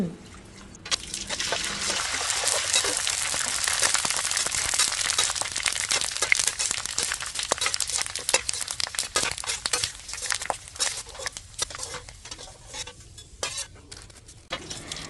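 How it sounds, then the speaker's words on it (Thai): Fat-free pork rinds frying in hot oil, a continuous crackling sizzle with scattered pops and a few scraping clicks of a utensil, close and steady throughout. "ส่วนขั้นตอนนี้เพื่อนๆก็ดูวิธีการทอดแคบหมูกันไปก่อนนะ"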